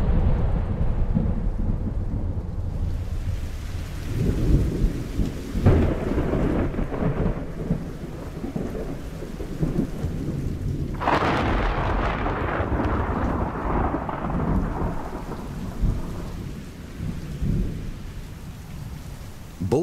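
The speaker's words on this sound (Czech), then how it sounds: "Bouře a hromobití jsou úžasným projevem stvořitelovy moci." A thunderstorm with heavy rain falling steadily throughout, broken by deep rolling rumbles of thunder, including a loud crack building near the middle, with no voices present.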